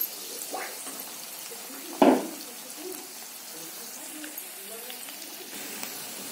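Onion dropped into hot oil with green chilies in a kadhai for a radish sabzi, a sudden burst of sizzle followed by a soft continuous frying hiss underneath.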